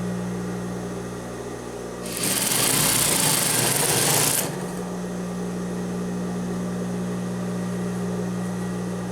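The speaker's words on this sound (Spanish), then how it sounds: "Empezamos arriba con nuestra guía de costura, remachamos y cosemos hasta abajo." A sewing machine stitches women's trousers in one continuous run of about two seconds, a loud close whirring buzz over a steady low mains hum that continues alone before and after.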